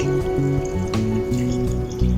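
Water is poured into a cooking pot of mung bean stew with pork and spices, a close gurgling fill whose pitch shifts in steps as the pot takes on liquid.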